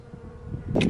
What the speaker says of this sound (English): Oh, and bees. There's a little bee.